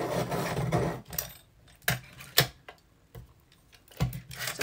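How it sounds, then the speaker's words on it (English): Colored pencil sharpened in a Derwent Super Point Mini sharpener, giving several short, close grinding rasps separated by brief pauses. "I'm just using my Derwent Super Point Mini to sharpen these"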